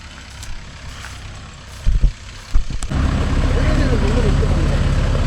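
A Mahindra Yuvo Tech Plus 585 shuttle gear 4WD tractor on a farm starts with a few thumps and knocks, then its engine settles into a loud, steady diesel rumble. Voices are heard in the background.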